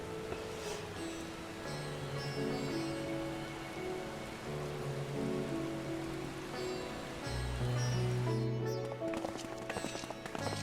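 Rain falls in the video game Final Fantasy XIV: Endwalker as a steady wash beneath sustained musical tones and scattered footstep-like clatter, continuing for about ten seconds without speech.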